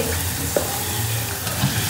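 A loud, close, continuous sizzle of turmeric, red chilli powder and garam masala hitting hot oil in a pan, with a brief clink partway through.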